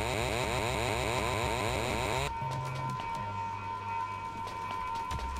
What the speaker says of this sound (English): they're going to give me a chainsaw?